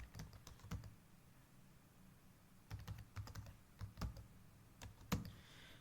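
Keys clack on a computer keyboard as a number is typed, with quiet scattered keystrokes in short bursts and pauses, close and alone without talk.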